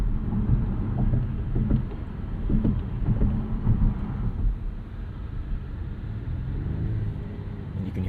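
Steady low rumble of the 2-liter four-cylinder engine in a 2024 Volvo S60 Recharge T8 plug-in hybrid, running around 2,000 RPM after starting up. The hum is continuous and moderate for the whole stretch, with no talk over it.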